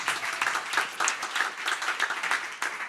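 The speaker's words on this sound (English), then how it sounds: "Give a big round of applause." Brisk audience applause fills the room right after a presentation, many hands clapping close and steady for a few seconds with no speech over it.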